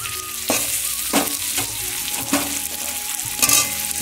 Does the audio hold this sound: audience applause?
no